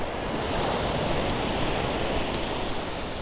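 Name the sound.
sea waves on the shore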